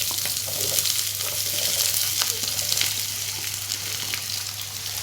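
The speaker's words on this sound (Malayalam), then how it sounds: "കടുക് പൊട്ടി തുടങ്ങിയിട്ടുണ്ട്" Mustard seeds crackle and pop in hot oil for a South Indian koottu curry, a dense steady sizzle with scattered sharp pops throughout, close and fairly loud.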